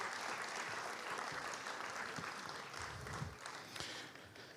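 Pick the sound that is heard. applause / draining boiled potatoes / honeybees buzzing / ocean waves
applause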